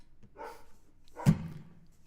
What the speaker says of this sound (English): All our dogs are barking.